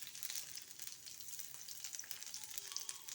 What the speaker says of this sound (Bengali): এবার ঝালটাকে ভালো করে একটু ভেজে নিতে হবে। এবার আমি দিয়ে দেবো রসুন কুচি।